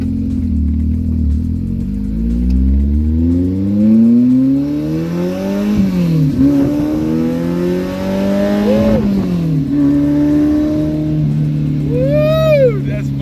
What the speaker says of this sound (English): Fiat X19, y'all